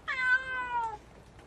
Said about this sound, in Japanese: ああ、猫だ。